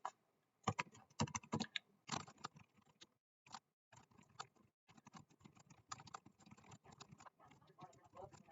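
A message typed on a computer keyboard: irregular bursts of close, crisp key clicks with short pauses between runs of keystrokes.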